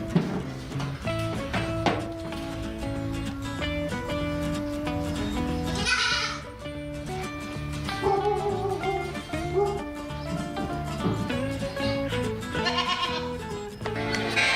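Black baby goats bleat several times in a farm pen, their wavering cries coming in short bursts over a steady, tuneful background that runs throughout.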